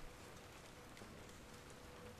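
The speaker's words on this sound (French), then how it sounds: "Il a commencé à pleuvoir, les gars," Steady rain falling outdoors in the horror exploration game Abandoned Souls, a continuous dense hiss of drops on surfaces throughout, with no talking.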